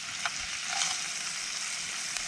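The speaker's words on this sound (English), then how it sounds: "I'll put the bacon in there because we want that to brown up nicely" Bacon sizzles steadily in a hot pan at a campsite, a constant bright crackle with occasional pops, close by and without talk.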